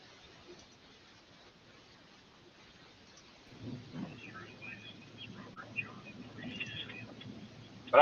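Storm chasing footage plays a low rumble of thunder and steady rain, starting faint and swelling midway, with some faint bird-like chirps and a voice murmuring faintly at moments.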